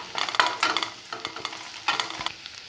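Fried onions with turmeric for cassava poriyal are stirred in a pan, giving close, rhythmic scraping strokes in short bursts over a soft sizzle.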